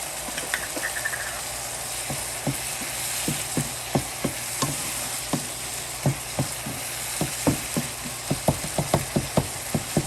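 Beef ribs and tomatoes frying in a pan on a stovetop, a steady sizzle with frequent sharp clicks and scrapes of stirring spread throughout.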